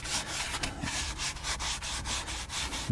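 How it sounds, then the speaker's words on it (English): Sanding a C7 Corvette interior part back and forth by hand, a close, rhythmic rasp of quick alternating strokes at an even pace, with no talking. "I needed to let it dry before I could sand it like I'm doing now"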